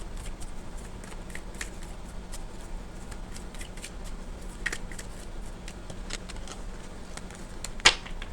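Tarot cards are shuffled and drawn in soft, rapid riffles and flicks, with light slaps of cards set down and a louder snap near the end, all close and fairly quiet.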